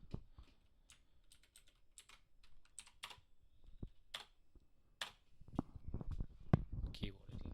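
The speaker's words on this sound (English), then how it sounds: "Keyboard is loud." Clacky computer keyboard typing comes in short bursts of keystrokes, sparse at first and then denser and louder, with someone speaking in between.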